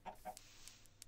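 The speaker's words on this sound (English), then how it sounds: "Okay, why can I not hit a chicken?" Chickens in a blocky survival video game give two quick, close clucks followed by a few faint clicks, with no voices.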